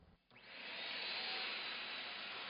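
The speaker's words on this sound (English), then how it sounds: "First, the floor is vacuumed to remove the light dirt and debris, and we're using a felt tip attachment for our wand to ensure a very clean floor" A wet-dry shop vac powers up with a steady, loud rushing hiss, sucking light dirt and debris off a concrete floor through a felt-tip wand attachment, droning evenly after a brief start.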